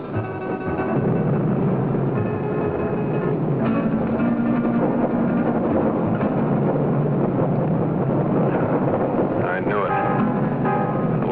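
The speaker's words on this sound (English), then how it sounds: "Engine's acting up already." A 1953 propeller airplane engine drones steadily in flight, a loud continuous mechanical rumble with wind rush. The roar holds at an even level throughout with a faint rhythmic chug and no clear break.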